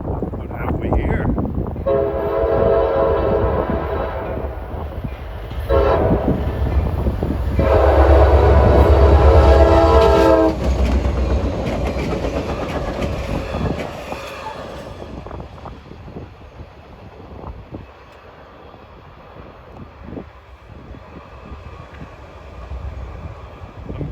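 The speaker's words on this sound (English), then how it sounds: "That was some kind of a business train with a GP40-2 and an SP stainless steel sleeping car on them." A CSX business train led by an EMD GP40-2 locomotive, with a stainless steel sleeping car, sounds its horn in three loud blasts. Its rumble then rolls past and slowly fades into the distance.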